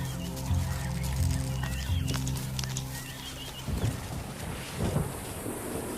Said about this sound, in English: As thunderstorms threaten to break the desperate grip of the dry season